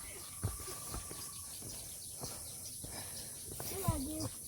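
Faint quail calls come from a mountain hiking trail, short chirps and slurred whistled notes scattered among rustling footsteps and quiet background noise, with people talking nearby.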